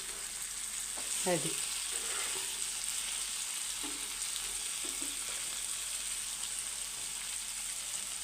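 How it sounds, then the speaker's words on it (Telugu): Fish frying in a pan over a low flame gives a continuous, soft sizzle, broken by a few light scraping stirs. One brief spoken word is heard. "మనం సిమ్మిలో పెట్టుకుని ఉడికించుకోవాలి చేప."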